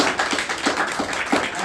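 A group in a classroom discussion session claps together in a brisk, fairly regular rhythm of about six claps, close and moderately loud.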